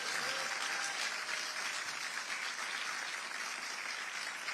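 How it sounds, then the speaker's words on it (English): An audience claps in a sustained, dense round of applause at a political address, steady and moderately distant, with no one speaking over it. "Let's give them all a round of applause."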